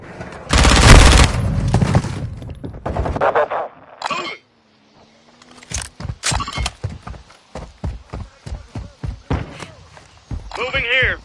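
Gunfire in a Call of Duty MW2 hardcore multiplayer match, with a loud opening burst, then a run of sharp single shots in quick rhythm. Game voices speak between them.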